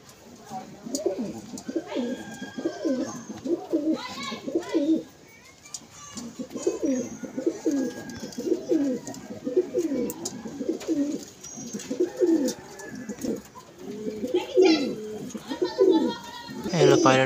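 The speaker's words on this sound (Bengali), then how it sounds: "যে সমস্ত পায়রাগুলো দেখাচ্ছি বন্ধুরা আপনাদের সবই মাদা পায়রা।" Female pigeons coo in repeated soft, rolling phrases, fairly close, with occasional short chirps and a person talking at times over the birds.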